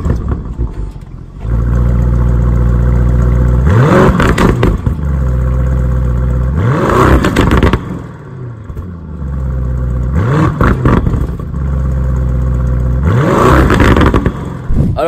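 A Lamborghini Urus SUV's deep V8 engine idles loudly, then revs hard in several rising bursts, each climbing and falling back to a rumbling idle.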